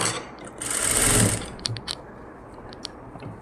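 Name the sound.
sewing machine stitching blouse lining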